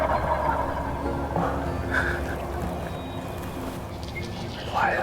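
A wild turkey gobbles in Ontario woodland at dawn, a rough rattling call sounding at a moderate distance amid outdoor ambience.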